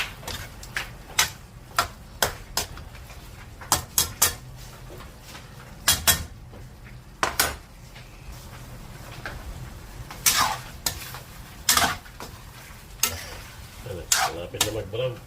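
Chicken sautés in a pan for a Filipino creamy chicken dish, with a low steady sizzle broken by sharp scrapes and clacks of a utensil stirring against the pan at irregular intervals.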